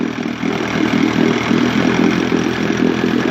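A restored 1956 Johnson 15 HP outboard motor runs steadily at idle, a loud, continuous mid-pitched engine drone with an even rumbling pulse and no pauses or talking.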